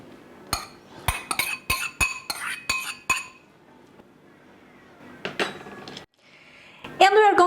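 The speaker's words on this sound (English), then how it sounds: "we're going to mix the already cooked TVP with the banana peels" Cooked TVP being mixed with banana peels in a bowl for a vegan meatless meatloaf: a run of sharp utensil clinks and knocks against the bowl, then quieter scraping, with a brief bright clatter at the end.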